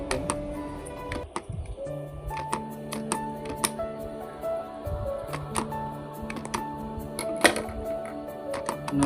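A Ranitidine 150 tablet is crushed into powder, giving a run of irregular tapping and grinding clicks, close and fairly loud, over faint background hum.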